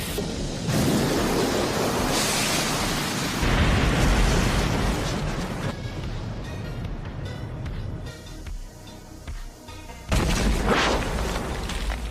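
A Fire Style jutsu explosion from the Naruto anime, a loud, sustained roaring blast of rushing fire that fades and then surges again near the end, with no speech over it.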